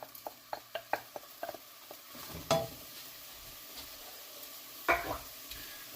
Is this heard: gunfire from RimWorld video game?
no